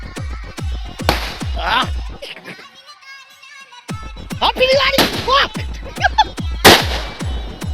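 Firecrackers burst at a Deepavali celebration in rapid, loud cracking volleys, with a brief lull before the sharp bangs resume in quick succession.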